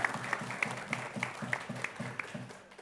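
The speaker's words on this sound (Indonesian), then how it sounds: "Kita Tepuk tep- tangan dulu dong untuk Ripson." Studio audience applause on a televised quiz show, a steady patter of clapping from a modest crowd that holds for about three seconds before tapering off near the end.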